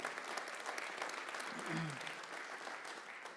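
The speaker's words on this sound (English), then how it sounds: "go ahead and clap for it" Audience at a nonprofit journalism forum applauds, a steady wash of many hands clapping at moderate distance throughout, with a brief voice in the middle.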